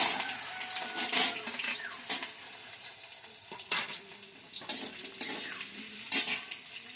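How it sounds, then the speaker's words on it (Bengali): Chopped onion and potatoes fry in a pan with a moderate sizzle, punctuated by repeated scraping and stirring strokes against the metal at uneven intervals. "এবার আলুটা একটু ভাজা হবে"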